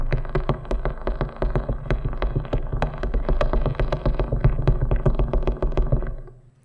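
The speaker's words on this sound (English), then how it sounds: "You have the idles, which sound like this." Idle vibratory signal of the wolf spider Schizocosa stridulans, a continuous buzzing rattle of fast rough pulses, low and steady for about six seconds before fading out.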